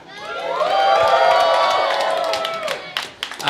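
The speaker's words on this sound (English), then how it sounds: "We have a bumper crowd in attendance." A large crowd roars and cheers at a robot fighting event, New Zealand versus Australia, in a sustained swelling wave that fades into scattered claps and shouts.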